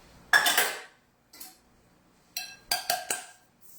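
Metal saucepan fetched and handled in a home kitchen while pasta is prepared, a clank followed by several lighter knocks and clinks of metal, fairly close, no talk.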